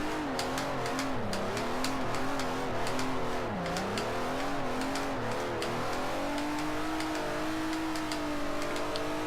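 A Hyundai Genesis engine in the Forza 4 racing game revs steadily while the car drifts, loud and continuous, with pitch rising and dipping as throttle is eased on and off, and faint tire noise underneath.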